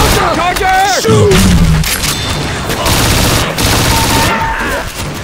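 Gunfire in the zombie shooter Left 4 Dead 2 with mods, loud rapid shots and booms under shouted voices and a groaning creature, dense and chaotic throughout.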